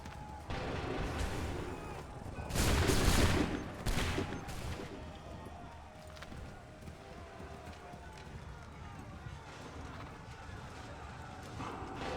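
A musket volley in Assassin's Creed 3 erupts as a loud burst of massed gunfire around the third second, then settles into a busy, noisy battlefield background with hoofbeats and running mixed in.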